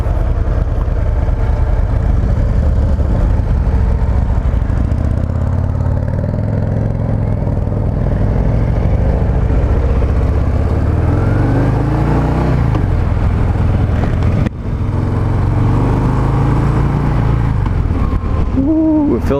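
A 2023 Harley-Davidson Breakout 117 motorcycle runs under way with a loud, deep engine rumble and thick exhaust drone. The pitch sweeps up and down as it accelerates and shifts, over steady wind roar.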